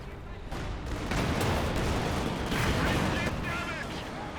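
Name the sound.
Panzerwerfer rocket artillery barrage in video game Company of Heroes 2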